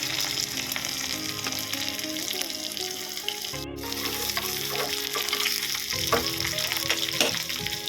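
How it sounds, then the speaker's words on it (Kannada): Tempering of mustard seeds, asafoetida, green chilli and garlic frying in hot oil for a ridge gourd dish, a continuous close sizzle with popping crackles and a brief break midway. "ಒಗ್ಗರಣೆಗೆ ಸಾಸಿವೆ, ಇಂಗು, ಇದಕ್ಕೆ ಗಸಿರೋ ಬೆಳ್ಳುಳ್ಳಿ"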